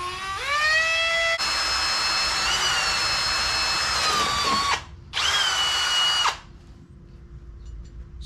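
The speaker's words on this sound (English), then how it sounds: "Then we're going to drill them out" A drill bores out a Ford Model A radius rod clamped in a vise, a loud, close whine rising in pitch at spin-up, then grinding through metal in one long run and a shorter second burst before fading to quiet.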